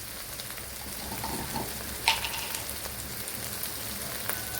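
Masala fries in a pan for a chicken liver fry, making a soft, steady sizzle and crackle close by, with a few sharper pops and no talking.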